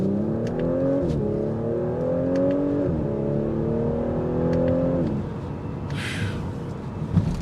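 A 2022 Audi S5 Cabriolet accelerates hard from a stop in first gear, its engine note rising steadily through two quick upshifts, loud and close, then easing off with faint wind noise.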